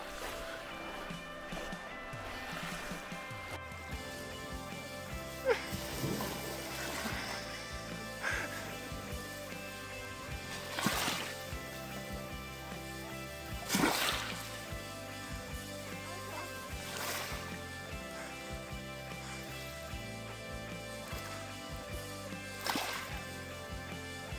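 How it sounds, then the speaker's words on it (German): A camper fords a difficult river crossing in high water on the road to Ushuaia, with repeated surging splashes breaking over a steady engine drone, close and moderately loud. "Wir sind zurück an der zweiten schwierigen Flussquerung."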